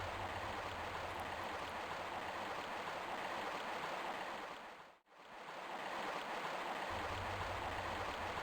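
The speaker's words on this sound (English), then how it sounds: "dive into the water, take the waterfall over to the area" A waterfall in Tomb Raider 1 Remastered gives off a constant broadband rush of water that briefly drops out in the middle before resuming.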